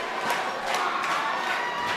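Wrestling crowd cheering for Tough Guy Inc. at a match, a steady, dense roar of many voices with scattered shouts swelling and falling, heard at a distance without a clear break.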